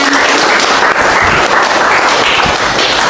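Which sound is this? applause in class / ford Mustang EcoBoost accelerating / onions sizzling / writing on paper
applause in class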